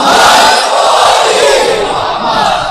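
A large audience at a religious gathering on the virtues of Mola Ali loudly recites salawat in unison, a dense, sustained wall of massed voices that stays loud and close for nearly three seconds.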